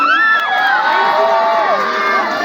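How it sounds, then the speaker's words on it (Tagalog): A crowd at the Miss Grand Imelda 2026 beauty pageant in Laguna cheers and shouts loudly and steadily, with high whoops and children's voices rising and falling through the whole stretch. "Wala rin po bang hiyawan dyan?"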